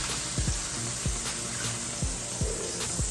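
Butter sizzles in a hot pan for a basil pesto grilled cheese sandwich, a steady close hiss with a few soft knocks and taps underneath.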